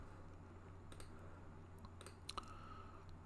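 A few soft, close computer mouse clicks, isolated ticks over a quiet steady hum of a desktop setup.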